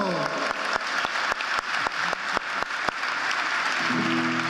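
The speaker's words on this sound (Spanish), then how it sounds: "Con eso vale un aplauso." A crowd applauds at a political commemoration event in Alicante, the clapping falling into a steady rhythmic beat that carries on until a voice comes in near the end.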